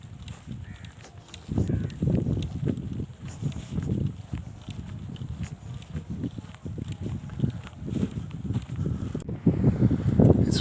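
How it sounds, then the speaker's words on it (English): Strong morning wind on a golf course rumbles and buffets against the microphone in uneven low gusts that persist throughout. "It's windy as hell in the morning on the second day"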